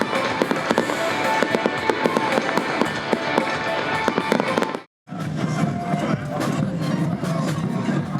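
Fireworks display launched from the royal chapel at the Dreux festival crackles and bangs in dense, continuous bursts, with a brief silent cut midway before the popping resumes, and a crowd is faintly audible.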